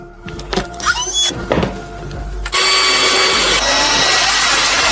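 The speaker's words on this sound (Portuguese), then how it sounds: "Para facilitar, uso uma broca pequena e faço um furo preliminar." Small drill bit boring a pilot hole for a junction box screw during a surveillance camera install, a loud close power-drill whine with squealing bursts, then a sustained high spin.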